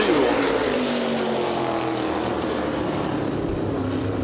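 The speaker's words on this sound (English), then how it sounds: "green flag is out. We're underway here for heat race number 2." Modified race cars roaring around Owosso Speedway during a heat race, a loud, continuous engine drone with a falling pitch as the cars pass, close and filling the whole moment.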